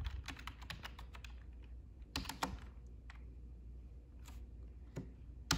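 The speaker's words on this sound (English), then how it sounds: "then we can type right now, start typing" Keys tapped on a Logitech K480 Bluetooth keyboard in quick bursts of clicks with short pauses, close and fairly quiet in a still room.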